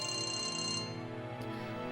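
An incoming call rings on a mobile phone, a loud electronic melody with repeating tones that cuts off partway and leaves a lower sustained tone behind, with no speech over it.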